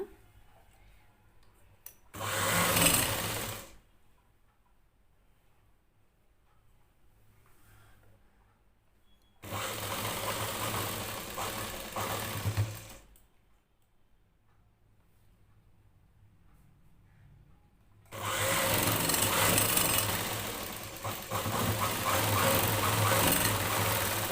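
A sewing machine stitches a plain blouse in three bursts, a short one and then two longer steady runs, close and clear with quiet gaps and no voices.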